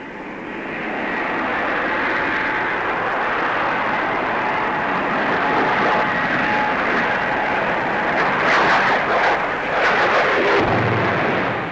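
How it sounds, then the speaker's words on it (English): A Gloster Meteor jet fighter with two Avon jet engines flies past at the Farnborough airshow, a loud sustained roar that swells and holds, with rumbling low end toward the close. "The Meteor, fitted with 2 Avon jets, is the most powerful fighter in the world."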